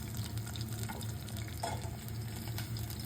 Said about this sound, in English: Saute the bruised lemongrass stalks.